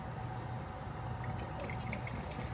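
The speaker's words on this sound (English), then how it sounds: "I am going to go ahead and put my water in my jars." Water pours steadily into glass canning jars, a continuous splashing fill with faint drips, close by with no talk.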